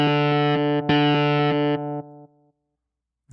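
Distorted electric guitar played through Logic Pro X: a sustained buzzy tone with a rhythmic pulsing chop, about two seconds of steady playing that steps down and fades out, with no voices.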